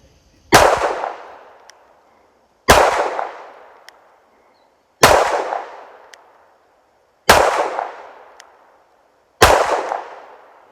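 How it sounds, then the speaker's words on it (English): Five loud, sharp pistol shots from a Tisas PX-9 with an optic attached, fired at 15 yards on a range, evenly spaced about two seconds apart, each with a short decaying echo. "Let's try 5 shots with that optic attached, and we'll see how it does."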